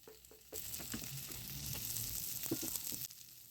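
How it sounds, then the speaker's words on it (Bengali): Fenugreek greens being stirred in a pan with fried eggplant and a little sugar, giving a steady close sizzle with intermittent scraping and stirring noises throughout. "চিনি দেওয়ার পর ভালোভাবে আবার একটু নাড়াচাড়া করে নেওয়া হচ্ছে।"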